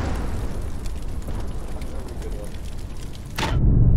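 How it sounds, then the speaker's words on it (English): A truck blows up in the video game Sniper Elite 4, a loud, dense roaring blast that swells and ends with a sharp burst, heavy low rumble lingering afterward. "Watch out for the secondary explosion."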